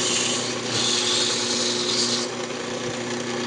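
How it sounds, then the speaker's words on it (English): Sandpaper rubbing on a wooden lidded box spinning on a woodturning lathe, a continuous steady rasping hiss over the lathe's low hum, close and fairly quiet, with no talk. "When you're sanding, just stay away from the tenon."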